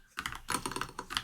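Computer keyboard typing in a short burst of quick, close keystrokes, clattering irregularly with a brief pause partway through.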